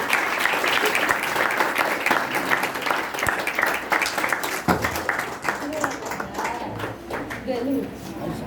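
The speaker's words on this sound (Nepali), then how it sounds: "हामी उहाँलाई ताली बजाउँदै हामी स्वागत गर्छौँ" A church congregation at a 2021 revival gathering in Simara claps together in welcome, making a dense, lively applause that fades a little toward the end, with voices talking over it.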